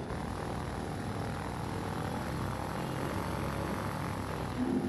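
A propeller plane taxis in a flight simulator video game, its engine droning loud and steady throughout with no talk over it.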